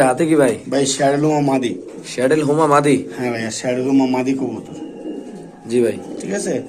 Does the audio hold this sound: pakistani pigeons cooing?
yes